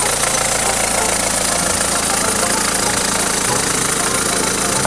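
A Hyundai Tucson CRTD diesel engine idles steadily with a dense, even rumble and a faint knocking texture, close by and continuous, with no one talking.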